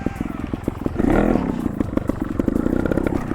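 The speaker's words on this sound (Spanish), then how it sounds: "Utilizo el pie de apoyo para girar la moto" A trial motorcycle pivots on sand as the rider plants a foot to swing it around, its engine chugging and blipping steadily with a brief louder rev midway, close by and alone.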